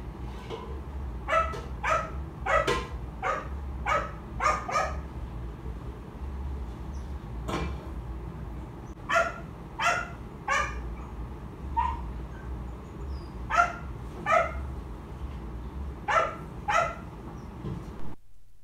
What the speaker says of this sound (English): later on, you will hear the dog barking